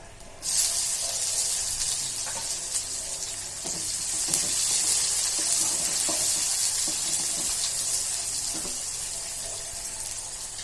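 Chopped onion drops into hot oil with cumin seeds in a pan and bursts into a loud, steady hissing sizzle that holds for several seconds, with faint stirring clicks beneath.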